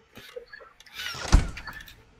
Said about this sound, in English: just trying to shut the door, bro.